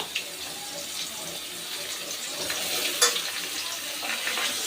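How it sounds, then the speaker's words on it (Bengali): Browned potato chunks and aubergine pieces frying together in a pan for a spicy poa bhola fish curry, giving a soft continuous hiss with occasional brief crackles close by. "এবার আলুর সাথে এই বেগুনগুলো দিয়েও আলুগুলো একটু ভেজে নেব।"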